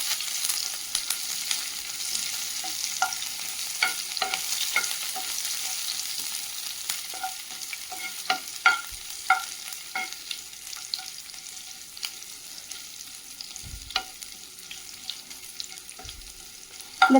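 A garlic, curry leaf and chutney mixture sizzles steadily in a pan while a spoon stirs it, giving soft scraping clicks over a constant close frying hiss.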